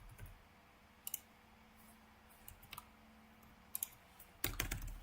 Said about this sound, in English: I keep typing X and V in the chat